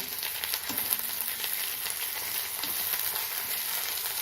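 Curry leaves and asafoetida hit hot oil for a tapioca masala stir fry, making a dense, even, continuous sizzle close up, with no speech over it.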